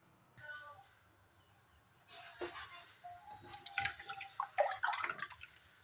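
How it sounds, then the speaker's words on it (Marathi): Water poured from a bowl into beetroot paste for papad dough: a low dribble early on, then a louder, uneven splashing stream with clinks in the second half, fairly close. "एक बाउल पाणी घालते"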